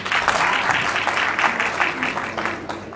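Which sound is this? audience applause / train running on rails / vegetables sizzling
audience applause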